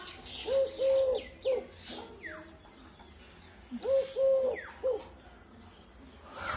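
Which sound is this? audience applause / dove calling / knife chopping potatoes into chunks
dove calling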